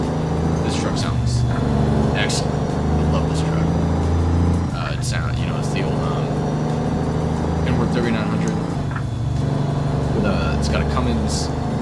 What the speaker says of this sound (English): I kind of wanted to make sure that you guys can hear the truck, because this truck sounds excellent